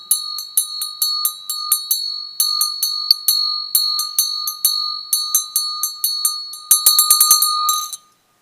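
A Tibetan Buddhist ritual bell is rung with a vajra in a rapid, rhythmic series of bright ringing strikes. The strikes come in repeated groups and end in a quick flurry before falling silent.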